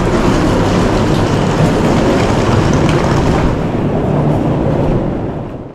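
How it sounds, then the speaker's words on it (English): Passenger train bound for Tallinn, Estonia rolling along the rails, a steady loud rumble and rattle of wheels and carriages that holds throughout and fades slightly at the very end. "catch the only direct train of the day to Tallinn in Estonia"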